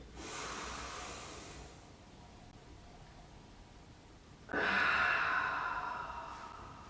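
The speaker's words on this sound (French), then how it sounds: "Allez, encore 1 ou 2 grandes inspires." Slow, deep yoga breaths taken in a quiet room: a long, airy inhale followed by a pause, then a louder, fuller exhale rushing out near the microphone, with no talking.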